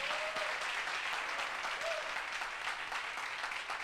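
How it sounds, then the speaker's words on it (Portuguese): Congregation applauding during a Portuguese-language evangelical church service, a steady wash of many hands clapping at moderate level with a faint whistle or voice rising briefly in the background. "Você pode aplaudir o nome do Senhor?"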